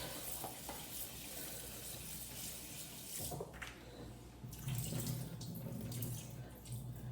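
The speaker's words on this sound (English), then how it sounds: "we're gonna wash our chicken" Tap water runs steadily into a sink as chicken wings are washed before frying, a continuous close splashing stream that swells louder and fuller in the second half.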